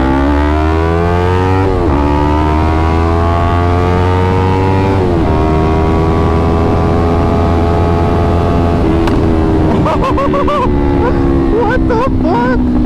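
A Yamaha R3 motorcycle with a modified exhaust idles loudly and blips its revs several times, rising in pitch with crackling toward the end; a voice talks over it.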